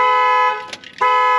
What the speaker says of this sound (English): I'm half expecting an alarm to go off.